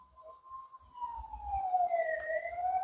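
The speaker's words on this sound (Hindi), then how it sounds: "एम्बुलेंस आया दोस्तों," A faint, distant ambulance siren wails with a slowly falling then rising pitch, accompanied by low road rumble.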